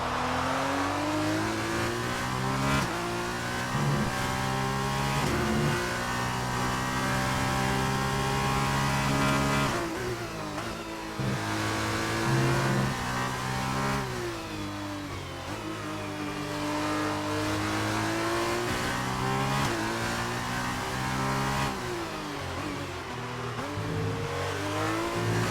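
An F2 race car engine screams through a flying qualifying lap in Hungary, loud and constant, rising and falling with upshifts and downshifts for the full stretch, with no talk over it.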